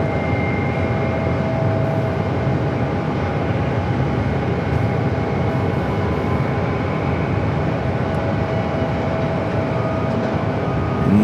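A jet aircraft takes off at Phoenix Sky Harbor airport, producing a loud, steady, broad roar that holds without a break throughout.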